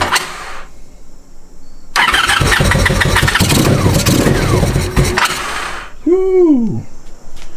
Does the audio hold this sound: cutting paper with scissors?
no